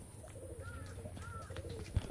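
Pigeons at a loft give a couple of soft, rounded coos at moderate distance over a low background hum, ending with a brief thump.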